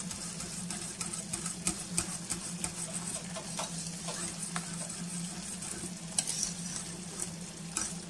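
Custard filling for galaktoboureko whisked in a pot, a continuous quick scraping and swishing with light taps against the metal, close and quiet throughout.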